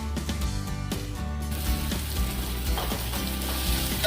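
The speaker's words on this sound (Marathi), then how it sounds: "चांगलं परतून घेऊया।" Red masala with ginger-garlic paste sizzling steadily in hot oil for chicken masala, a continuous close frying hiss with a few soft stirring knocks.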